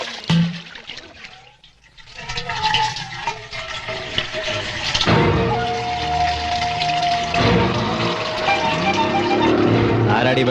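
Water drawn from a public corporation pipe in a Malayalam film scene, a continuous rushing, splashing flow that swells after a brief pause and keeps running steadily, with people talking over it.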